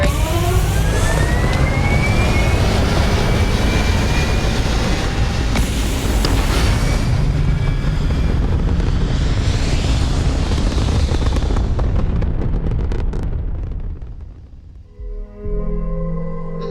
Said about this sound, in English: Thrusters firing.